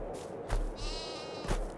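Sheep in Farming Simulator 22 bleating twice, clear and close, with a steady low farm ambience between the calls.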